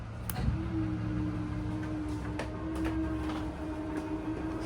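A 2025 Shasta 31QB RV slide-out motor's steady mechanical whine runs under a series of faint, irregular clicks and ticks as its clutch ratchets, with a low background hum.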